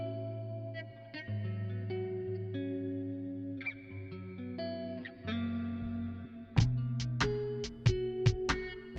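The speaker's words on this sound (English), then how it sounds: "Let's add some reverb." Sustained electric guitar tones played through an SP-404 MK2 sampler ring out with heavy reverb and shimmering effects, notes overlapping and trailing, followed by a few sharper plucked hits near the end.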